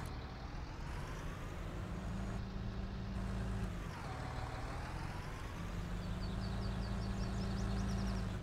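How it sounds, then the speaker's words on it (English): A farm tractor engine runs steadily in Farming Simulator 19, a continuous low droning rumble with shifting pitch as revs rise and fall, heard alone at moderate level. "So this is our tractor,"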